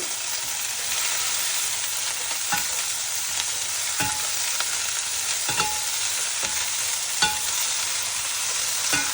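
Cluster beans and onion fry in a pan under a constant sizzle, while a spatula knocks and scrapes at fairly regular intervals, each stroke sharp and close. Nobody talks.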